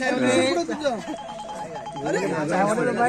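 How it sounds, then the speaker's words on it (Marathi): A phone ringtone plays repeatedly while voices talk over it nearby. "अरे चायवालीचा फोन आला."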